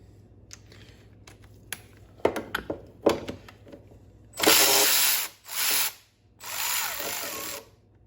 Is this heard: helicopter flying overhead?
no